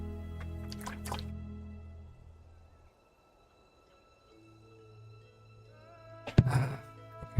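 In the video game Genshin Impact, water is poured onto a seed in dry, hard soil, making soft liquid drips and thunks. A louder splashing burst comes near the end over a quiet game background, and no one speaks.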